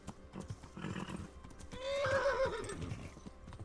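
A horse named Pebbles in Kingdom Come: Deliverance gives a loud, wavering neigh over steady hoof clip-clops, up close with no talking.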